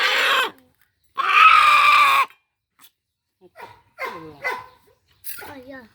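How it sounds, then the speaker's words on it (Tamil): A dog barks loudly and close at a village home, in two long bursts, followed by several shorter yelps and cries, with a voice speaking between them. "அங்க நாய் வர குழச்சிட்டே இருக்கு"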